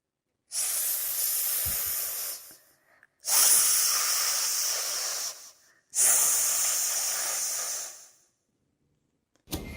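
A voice produces three long, sharp hissing sounds imitating a grass snake, each a few seconds long with brief gaps between.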